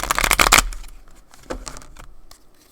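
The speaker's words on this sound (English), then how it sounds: "We'll quick shuffle the action deck." A deck of action cards for a tabletop basketball game is quickly shuffled: a loud burst of riffling for half a second, then softer scattered card flicks and taps trailing off.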